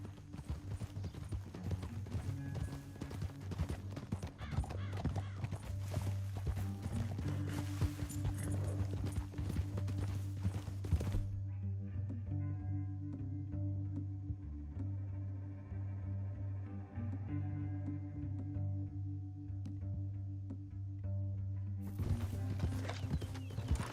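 Horse hooves clip-clop steadily in the video game Red Dead Redemption 2 over a droning synthetic background, the hoofbeats dropping away partway through and returning near the end.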